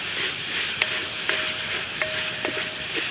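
Sausage and bacon sizzle in a pan with a steady, bright crackling hiss, broken by a few sharp metallic scrapes and clinks from stirring, close by and without talk.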